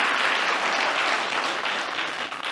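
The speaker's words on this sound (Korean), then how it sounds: "창석 선교사님과 우리 사모님 바로 뒤에 계신데 잠깐 일어서시면 우리 인사하실 때 큰 환영의 박수로 인사하도록 하겠습니다." Congregation at a Sunday church service claps steadily to welcome a missionary and his wife, a full, even round of applause heard close with no voices over it.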